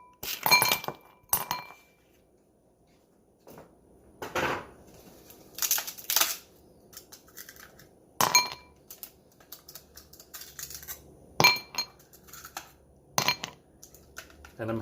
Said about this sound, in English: And then I'm going to put this ice in that bowl.